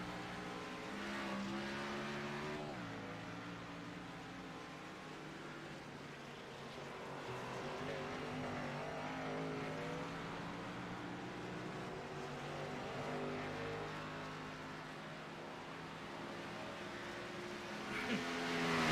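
Race cars roaring around a track during a broadcast race, a continuous layered engine drone with shifting pitch as cars pass, moderately loud and distant, rising slightly at the end.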